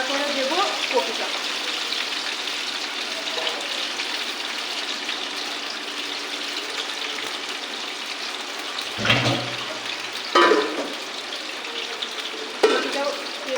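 Cut potatoes frying in a pan before cabbage is added make a continuous close sizzle, broken by a few louder bursts of clatter or gushing near the end.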